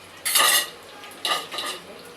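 Potatoes frying in a pan are stirred with a metal utensil, giving two short bursts of clattering scrapes against the pan, close up, with no talk.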